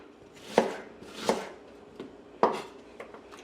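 Onion is chopped into big chunks on a cutting board for Haitian griot, giving four or five firm knife thuds at an uneven pace, close and moderately loud, with quiet gaps between strokes.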